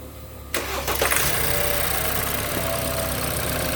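BMW F30 engine cranks with a sharp starter whir, catches, and settles into a steady idle that carries on through the rest of the clip, close and fairly loud, with no talking.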